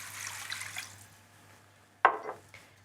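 Chicken stock pours into a pan with a soft liquid splash and trickle that fades, then a brief sharper splash near the end, close and quiet with no voices.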